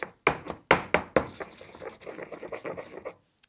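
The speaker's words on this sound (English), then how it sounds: "So straight into the mortar and pestle." Garlic and salt are pounded in a mortar and pestle. A few sharp, separate knocks come first, then a softer run of quick grinding taps and scrapes, all close by and with no one speaking.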